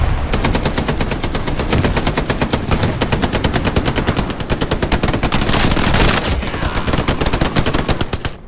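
Sustained, rapid machine gun bursts in the WWII shooter Hell Let Loose, in a battle at Carentan, loud and close with a dense, steady rhythm of shots over nearly nine seconds, broken by brief heavier blasts.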